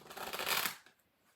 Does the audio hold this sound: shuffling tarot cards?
yes